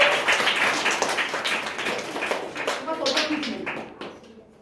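Students and staff at a school exam-results ceremony clap loudly for a first-grade pupil, dense applause that gradually thins and fades out, with voices speaking over it.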